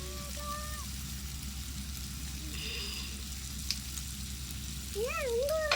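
Chicken coated in masala sizzles steadily in a pan after ghee is added, a constant close frying hiss with brief squeaky scraping sounds near the end.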